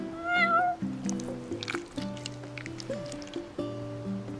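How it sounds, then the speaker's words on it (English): A cat meows in the Final Fantasy XV video game, several short rising meows near the start standing out clearly over a soft musical background. "You're one spoiled cat."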